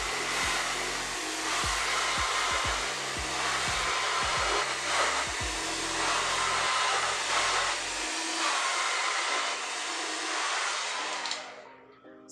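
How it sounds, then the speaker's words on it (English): A handheld blow dryer runs on a section of natural hair, a loud steady whir with a few bumps and shifts in tone as it moves. It then switches off, leaving a low hum that fades out. "And then you want to take your blow dryer and blow dry that section."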